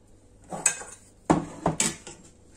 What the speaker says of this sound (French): On met nos pommes de terre dans un plat qu'on peut mettre au four.